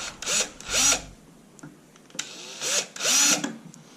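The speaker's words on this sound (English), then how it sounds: "We're going to want to drill smaller holes with this bit first before we get to that big one." A power drill bores holes while mounting a Garmin Panoptix ice fishing bundle, two pairs of short, close whirring bursts with brief pauses between them.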